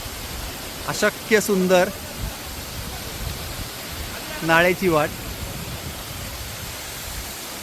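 A waterfall tumbles beside a steep, unused gully trail descending near Kothaligad fort, giving a steady broadband rush throughout, while voices speak briefly twice over it.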